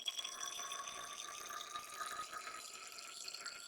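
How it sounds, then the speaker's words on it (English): Distilled water is poured into a measuring container for a capsaicin analgesic cream, a soft continuous trickle and bubbling close by that holds steady throughout. "And we're going to measure out 15 milliliters of distilled water."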